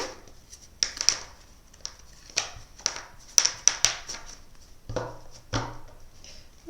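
Tarot cards are shuffled by hand, giving soft riffles, slaps and taps at an uneven pace. The sound is close but fairly quiet, and no one speaks.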